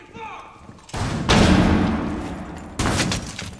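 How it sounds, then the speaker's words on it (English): Gunfire in the tactical shooter game Rainbow Six Siege, with a shotgun mentioned: heavy loud bursts of shots and impacts arrive in two sustained rolling volleys, under occasional talk. "Where is he shooting at me through?"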